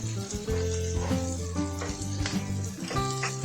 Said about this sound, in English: let everything simmer on low heat for about 2 to 5 minutes